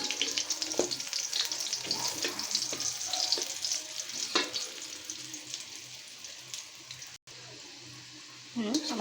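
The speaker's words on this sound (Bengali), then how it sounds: "অল্প তেল দিয়ে ভাজবো, বেশি তেল দিব না।" Snacks sizzle and crackle steadily in a small amount of oil, with a dense, even fry that runs close and moderately loud throughout, briefly cut off near the end.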